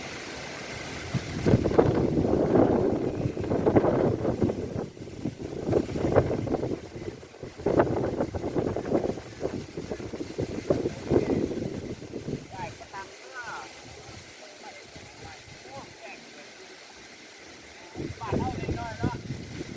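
Strong gusting summer storm wind in Surin province, Thailand, roaring in repeated surges against the microphone with buffeting noise, easing off near the end before picking up again.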